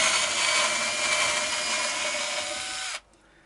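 A power screwdriver or drill whirs steadily at close range while taking out the bridge screws of a Telecaster electric guitar, then stops sharply, leaving near quiet.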